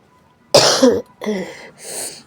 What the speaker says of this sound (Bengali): খুব ঠান্ডা লেগেছে সেই জন্য একটু কাশি সর্দিটা বেশি হয়ে গেছে